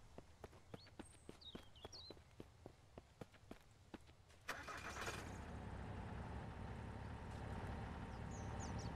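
In the survival game Mist Survival, a run of light, evenly spaced footsteps ends as a car engine cranks and catches, then settles into a steady, low idle that fills the rest of the clip.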